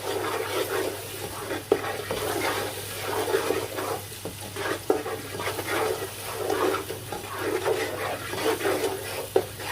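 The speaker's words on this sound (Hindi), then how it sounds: "मसाले को आपने तब तक भूनना है जब तक ऑयल जो है इसमें सेपरेट ना हो जाए" Spices with salt, turmeric and red chili powder being roasted and stirred in oil for Punjabi kadhi pakora, a soft continuous frying hiss with repeated scraping and stirring clicks close by.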